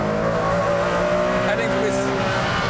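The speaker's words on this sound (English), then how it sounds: "And now the car leaps out of that corner." A race car surges out of a corner on a track, engine note droning steadily and loud with harmonic whine, tires faintly squealing, heard from onboard.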